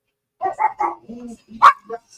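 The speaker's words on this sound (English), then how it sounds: "Sorry, Missy just saw a dog on TV." A dog barking at another dog on TV: three quick close barks, a lower grumbling stretch, then a sharp loud yelp-like bark and a last short one, in a quiet room.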